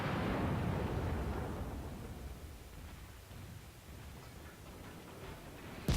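Ship broadside guns fire in World of Warcraft as a heavy, booming volley that decays into a long rumble, with a faint sharp report right at the end.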